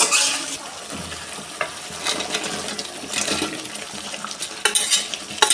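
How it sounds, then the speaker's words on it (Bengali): Fried potato, pointed gourd and paneer are tipped into a hot wok and stirred, giving steady sizzling with scraping and clattering of the spatula against metal throughout. "এবার এখানে ভেজে রাখা আলু পটল পনিরগুলো আমি কড়াইতে দিয়ে দিচ্ছি।"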